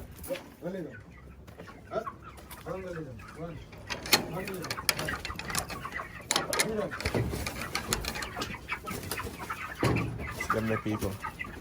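Chickens clucking and squawking on a Jamaican chicken farm, repeated calls in short bursts at close range amid general farmyard bustle, with people talking over them.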